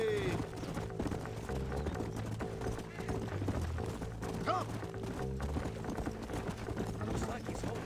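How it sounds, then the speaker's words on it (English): Horse hooves clatter in a steady clip-clop under music and game ambience in Red Dead Redemption, with a voice calling out briefly over the riding. "Let's hold up a minute and find a spot for our horses."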